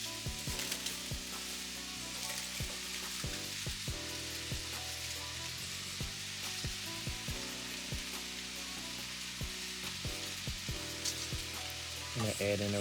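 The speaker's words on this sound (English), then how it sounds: "And then I go ahead and add in the rest of the cabbage." Cabbage frying in a pan for a vegan dish, a steady soft sizzle with occasional stirring scrapes and clicks, close and moderately quiet with no talking.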